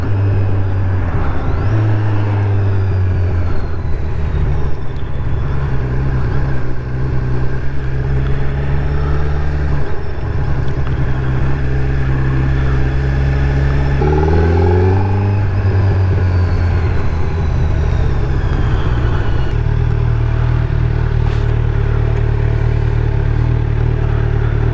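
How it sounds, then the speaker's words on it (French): A 2025 Kawasaki Z900 SE motorcycle engine hums steadily at close range, with a quick rising throttle blip near the middle as the quickshifter downshifts, then settles back into a steady drone. "On entend le petit coup de gaz là avec le shifter down."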